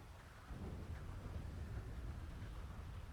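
Thunder rumbling through steady rain in a GTA V NoPixel roleplay game, a low rolling boom swelling in after half a second over the constant hiss of rainfall.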